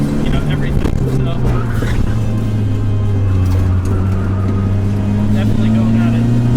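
Turbocharged classic Honda Civic Si driven hard on a canyon road, its engine droning loud and steady with a rising pitch toward the end, a constant close in-car roar.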